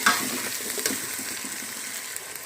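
Garlic ginger paste frying and being stirred in a pan for mutton kadai, a soft continuous sizzle with a few scraping stir sounds, close and fairly quiet, no voices.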